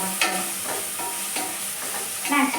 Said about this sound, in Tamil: ஸோ இப்போ வந்து நம்ம மிளகா பொடி எண்ணெயிலே போடுறதுனால இதுவே கலர் வந்து தூக்கி கொடுக்கும்